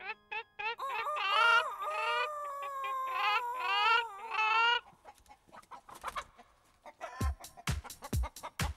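An animated rooster crows and clucks loudly and up close in a long, warbling run, then falls quiet before a series of sharp percussive beats follows.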